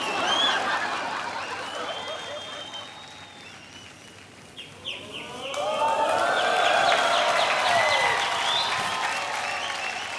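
Audience applause and cheering swell and fade on a comedy TV show, with whistles and laughter mixed in, dipping midway before rising loudly again.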